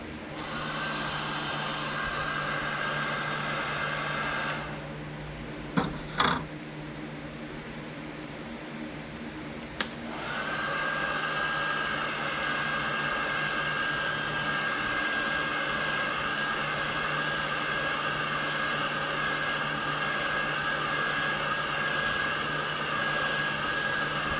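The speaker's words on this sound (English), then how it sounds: "So then you want to take your heat gun." A heat gun warms tint film over the side marker of a 2019 Dodge Charger Scatpack with a continuous, close, whining blower hiss. The hiss dips briefly around a few sharp clicks and then resumes steadily.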